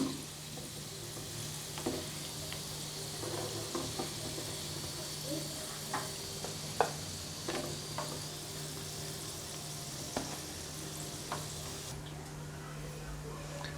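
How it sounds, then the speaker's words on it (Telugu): Chicken keema balls fry in oil over a low flame, giving a soft, steady sizzle with scattered light pops and crackles that carry on evenly throughout. "వేపుకోండి, సిమ్లోనే. వేగిపోయండి."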